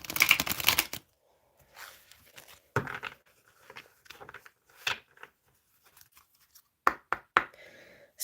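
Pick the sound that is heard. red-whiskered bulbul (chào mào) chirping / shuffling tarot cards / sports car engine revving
shuffling tarot cards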